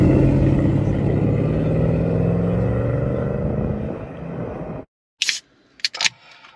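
Engine noise of racing cars in a K2000 chase with a taxi firing its first turbo boost, a loud steady rumble for nearly five seconds that cuts off abruptly, followed by a few scattered clicks.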